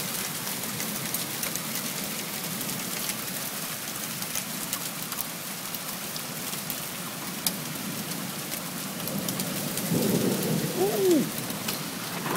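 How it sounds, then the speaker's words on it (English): Nighttime thunderstorm directly overhead, with steady rain drumming on surfaces throughout and a louder rumble of thunder building near the end. "Storm is right above us now."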